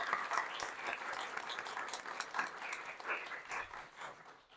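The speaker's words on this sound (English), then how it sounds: "If you'll join me in thanking them by a round of applause for joining us." Audience applause at a congressional briefing, a sustained wash of many hands clapping together in a room, moderately loud and steady before tapering slightly.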